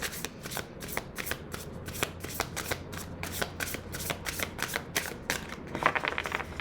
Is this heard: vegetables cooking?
no